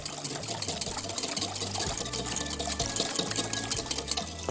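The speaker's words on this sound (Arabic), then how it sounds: "لازم اقلب بقى السكر كده عشان يدوب وينشط لي الخميرة مع المية الدافية" Sugar and a pinch of salt are stirred into warm water with yeast, producing a steady, rhythmic swishing and scraping that repeats through the short stretch, with no talking.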